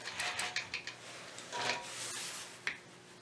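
A sewing machine stitches a square quilt block in quiet bursts of mechanical whirring and ticking, stopping and starting several times at close range.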